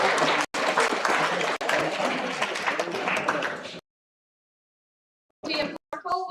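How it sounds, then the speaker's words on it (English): Audience applause at a spoken word poetry finals fills the hall with dense, sustained clapping for several seconds before stopping abruptly, followed after a pause by brief speech. "Applaud the poet, not the scores."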